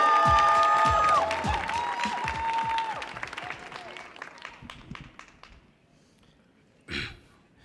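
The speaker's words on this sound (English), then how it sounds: "start clapping for Xavier." A youth poetry showcase audience on a stage applauds loudly for a poet being introduced, dense clapping and some cheers that thin out and fade, ending with a brief final swell of noise.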